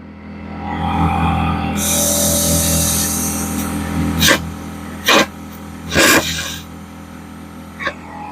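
An air-powered tool driven by a weak air compressor runs in bursts while a bench seat is fitted into a Square Body Suburban: a sustained high hissing whine, then several short sharp blasts, with no voices.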